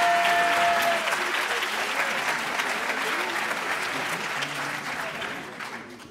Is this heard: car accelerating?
no